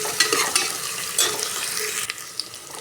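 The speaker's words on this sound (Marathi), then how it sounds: "मोठ्या गॅसवर आपल्याला भाजायचं आहे" Green masala paste roasting in a pan over a high flame, with a close, steady sizzle and repeated scraping stir strokes of a spoon through the thick paste.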